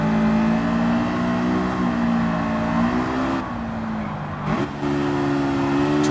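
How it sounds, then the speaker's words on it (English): A Honda S2000 in Gran Turismo 7 on Grand Valley Highway drones loudly under hard braking, engine pitch sliding down, a quick blip and rev jump as it downshifts to first. "Slamming on the brakes at the 150 point, downshifting to first."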